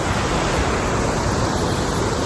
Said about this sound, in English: And look at the waterfall.